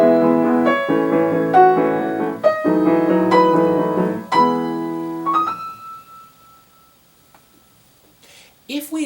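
Solo piano plays the rising opening of a Beethoven sonata exactly as written, a series of sustained chords climbing upward in separate steps before one long high note fades into near silence, with a brief noise at the very end.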